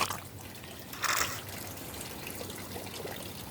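A half-full snuffer bottle spits and sucks water while picking up gold from paydirt, giving a faint, close trickle with one brief gurgling burst.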